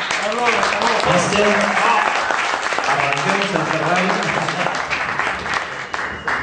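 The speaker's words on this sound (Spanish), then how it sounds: "Así es que recibamos con un fuerte aplauso al señor Carlos Medellín." Audience applause at a business event in Madrid, sustained clapping from a crowd under an amplified voice talking over it.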